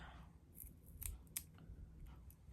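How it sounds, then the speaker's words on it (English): Non-stick scissors snipping through paper in a few quick, crisp cuts, close and quiet against a hushed room, with no talking. "So let me get my non-stick scissors."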